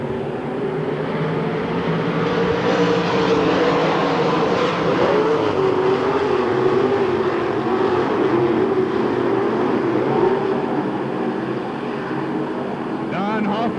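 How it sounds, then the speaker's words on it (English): Race cars roaring at Hamilton County Speedway in 1993, a continuous loud engine drone from the pack as the field takes the green flag, with a race announcer talking over it throughout. "Throttles go down. We're looking to go green, and we're racing."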